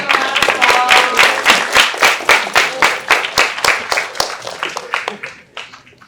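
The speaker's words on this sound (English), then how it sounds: "Can we give them a round of applause?" Audience clapping at a hackathon pitch and closing ceremony, a loud crowd of hands with sharp, close claps standing out, gradually thinning and fading out over about six seconds.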